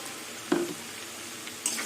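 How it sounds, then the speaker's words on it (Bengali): Potatoes fry with ground poppy seed paste in a pan, giving a low sizzle broken by a couple of short stirring scrapes, quiet and close. "এবার পোস্ত দিয়ে আলু দিয়ে কিছুক্ষণ আবার কষিয়ে নেবো"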